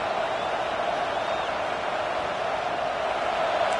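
A football stadium crowd roars at a game, a steady, distant wash of cheering that holds at an even level throughout with no distinct voices.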